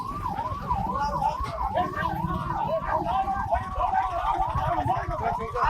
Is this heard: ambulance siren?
yes